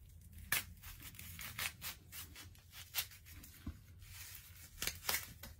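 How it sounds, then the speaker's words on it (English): An onion is sliced in half with a knife, heard as faint, close cutting and scraping strokes in an irregular run of sharp bursts, with no voices. "I'm going to cut this onion just like this"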